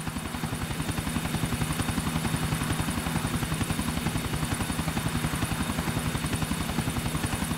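A helicopter in GTA 4 flies with a loud, steady rotor chop, its rapid even thumping close and continuous over a constant engine whine, no voices.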